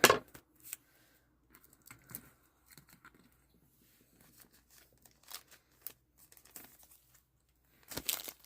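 Scissors trim the bottom of a Rainbow Brite doll's plastic packaging, giving scattered short snips and crinkles of plastic and cardboard with quiet gaps between them and a louder burst at the end.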